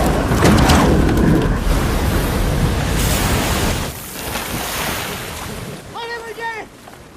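Big ocean surf roars and crashes in a film as a small raft with a makeshift sail passes the last large wave off a deserted island, loud broadband wash with wind noise throughout, easing somewhat toward the end.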